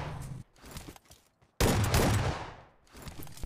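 Shotgun blasts in PUBG Mobile ring out as a few loud, separate shots with a big boom and decaying tail in the middle, alongside quieter game sounds.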